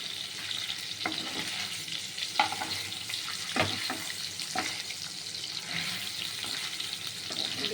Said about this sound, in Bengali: সামান্য ভেজে নিয়েছি হয়ে গেছে এবার পনিরটা তুলে রাখতে হবে